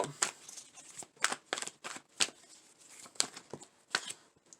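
A deck of tarot cards is shuffled by hand in quiet, repeated bursts of riffling and slapping, close and fairly soft, with no talking.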